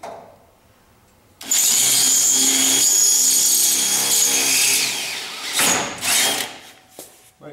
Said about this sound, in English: It is a high-speed drill.